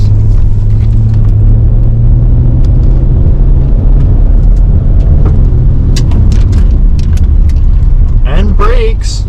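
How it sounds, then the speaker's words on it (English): Engine of an old car running while driven, a loud, steady low rumble throughout with rattles above it, close and continuous. "She sounds like a good car."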